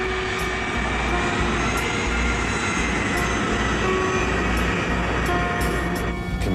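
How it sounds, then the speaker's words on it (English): A KLM jet airliner taxis on a fog-covered runway, its engines producing a steady loud roar and hum that persists throughout with no speech. "The KLM plane is groping its way through fog."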